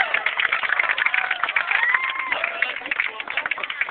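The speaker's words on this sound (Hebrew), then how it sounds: "איפה כפיים לאוהד?" Wedding guests clap together at a Jewish ceremony: brisk, dense clapping with a lively crowd murmur, recorded with a muffled, narrow tone and held steady for several seconds.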